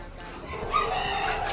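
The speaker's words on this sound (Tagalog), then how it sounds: "Ayan na naman si Manok." A chicken near a pigeon loft on a sunny day gives a faint, brief call partway through, over a steady hiss of background ambience and distant birds.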